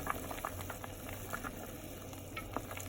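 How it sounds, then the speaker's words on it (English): Water bubbles and pops steadily in a pot at a gentle boil, with a low hum underneath. "It's boiling."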